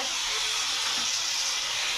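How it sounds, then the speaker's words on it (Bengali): Ash gourd fries in a pan in a home kitchen, producing an even, continuous hiss of sizzling oil throughout, close and moderately loud. "এদিকে আমার চাল কুমড়ো ভাজি হচ্ছে"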